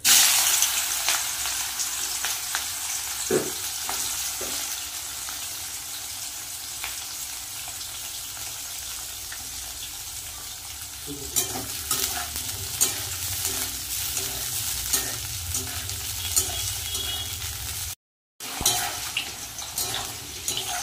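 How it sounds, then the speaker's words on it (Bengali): Nigella seeds and cut bitter gourd hitting hot oil, a loud hiss that settles into steady crackling sizzle with occasional stirring knocks and a louder burst of frying in the second half. "তেল কিন্তু গরম হয়ে গেছে, তেলের মধ্যে দিয়ে দেবো কালো জিরে, কেটে রাখা উচ্ছে দিয়ে দেবো"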